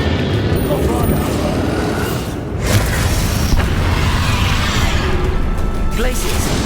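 A Bombarda explosion spell goes off in the Hogwarts Legacy video game. A loud, broad blast breaks over a dense, rumbling battle soundscape with voices, then leaves a sustained roar.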